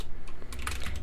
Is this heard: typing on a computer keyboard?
yes